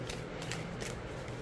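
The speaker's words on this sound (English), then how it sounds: "I don't have any issues with this, with shuffling this deck" A Superlunaris tarot deck is shuffled up close, giving quick riffling card flutters in a few rapid bursts, with no talk.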